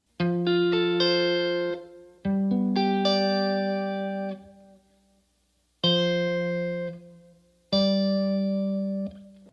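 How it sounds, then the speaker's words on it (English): A handful of full chords with parallel fifths between bass and soprano played in sequence, struck firmly and left to ring, with brief pauses between some of them. "The absolute worst parallel fifth is when the fifths are between the bass, meaning the lowest note, and the soprano"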